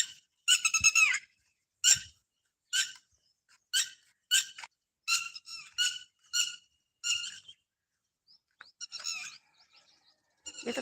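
A flock of noisy birds calls in quick, bright bursts outdoors, loud and close at first, then thinning to scattered chirps with brief gaps and no speech.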